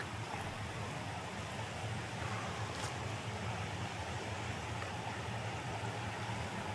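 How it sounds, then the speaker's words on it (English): Flowing stream in Moanalua Valley, a steady rushing wash of water running continuously at moderate level, with a faint brief rustle partway through and no talking. "That's a real river. Stream at least. Brook."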